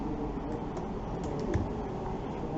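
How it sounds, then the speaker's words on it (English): Login details are typed on a computer keyboard as a quick, continuous patter of light key clicks, close and steady with no talk. "So I will type my username"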